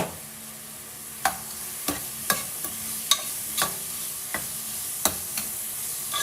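Bitter gourd sautéing in a pan while mung beans cook, with a steady sizzle of frying under sharp, irregular clacks of a utensil stirring against the pan.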